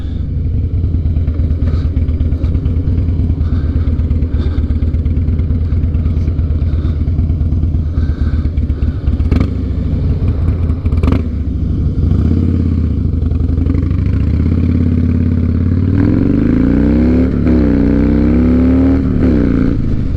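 A 2007 Harley-Davidson Night Train motorcycle engine runs loud and steady, rumbling at a lumpy idle with some clatter, then revs up and down in several rising and falling throttle blips near the end, with no talking.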